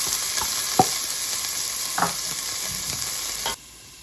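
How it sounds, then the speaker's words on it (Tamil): Chopped onions fry in hot oil with cumin, a loud steady sizzle broken by a few scraping stirs of a spoon, cutting off abruptly near the end. "அப்படியே நாங்கள் சின்ன வட்டி வச்ச வெங்காயம் போடுறோம்."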